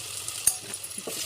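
Ginger garlic paste sizzles in a pan while being stirred, a soft steady frying hiss with a few faint scrapes, close and quiet, no voices.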